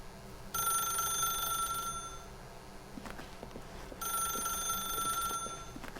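A telephone rings in The Stanley Parable video game, two long electronic bursts with a pause between them, fairly quiet over faint room noise.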